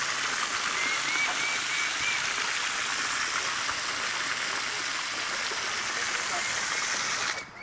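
Water poured out for backyard chickens, a steady bright splashing stream running continuously and fairly close for several seconds before stopping.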